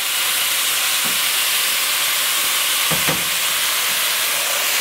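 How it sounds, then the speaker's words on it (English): Cubed chicken sizzles loudly in a hot pan for a low-carb chow mein, a dense, steady hiss of frying with a few soft clinks of stirring. "You get that sizzle."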